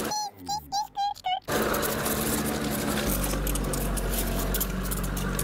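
A voice speaks briefly, then a loud, continuous crunching and cracking of plastic glue bottles being crushed under a tank, with a low engine rumble underneath.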